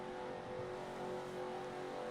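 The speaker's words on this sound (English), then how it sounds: "The pace car reaches the entrance to pit road." A race pace car runs steadily toward pit road at a Montreal track, a constant faint engine drone with no clear rise or fall, heard at a distance without any commentary over it.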